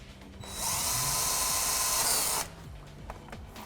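A power drill whines at a high steady pitch for about two seconds as it bores through a composite Corvette C7 side rocker panel, then stops, leaving light workshop noise.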